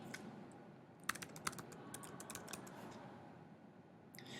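Quiet clicking of a computer keyboard while a search is typed, with scattered key taps bunching in the middle and a soft room hum underneath, no speech.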